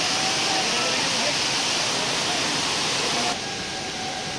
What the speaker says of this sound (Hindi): यहाँ पर बहुत ही पब्लिक ना रही है और अच्छा लग रहा है झरना देखते हुए, ये देखो गाइस झरना